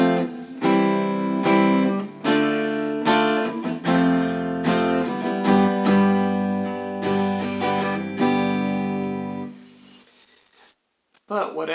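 Root position chords from a song played on guitar, with a steady run of strummed, full harmonic chords at a moderate pace that ring out and fade into near silence at the end.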